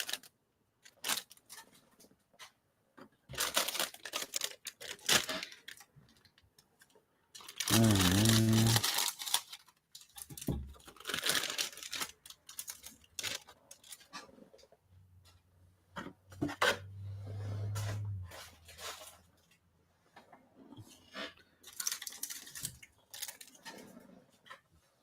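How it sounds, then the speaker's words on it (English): Intermittent snipping of scissors cutting plastic model kit parts, with crinkling, clicks and rustles spread across the stretch and a brief loud crunch partway through. "Sorry for the loud noises of scissors and plastic."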